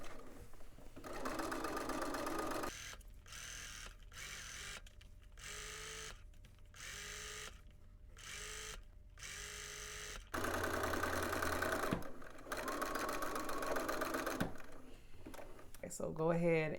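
A sewing machine understitches a hood facing in repeated close bursts of rapid whirring stitches, broken by short pauses between runs, with someone speaking in between.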